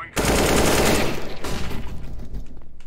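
Gunfire in the Counter-Strike: Global Offensive video game: a loud, sustained automatic burst, then a run of rapid, evenly spaced shots, close and dominant.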